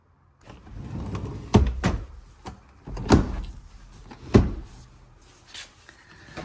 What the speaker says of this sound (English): you're going to go ahead and slide the seat forward so you can access the two bolts in the rear